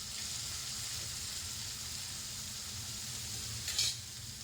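Vegetables with salt sauté for masala pav in a pan, a steady close sizzle running throughout, with a brief clink of a spoon near the end.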